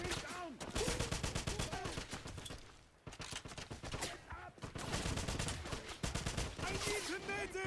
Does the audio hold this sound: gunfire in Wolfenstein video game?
yes